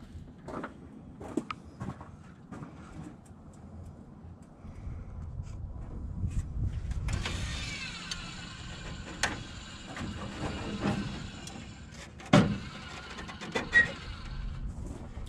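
Electric headlight motor on a 1968-69 Dodge Charger straining and whirring as it tries to move a stuck headlight door, a mechanical grinding buzz with clicks and knocks, fairly close.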